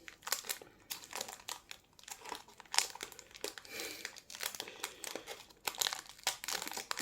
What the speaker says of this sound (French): si j'arrive pas trop, je déchirerai le paquet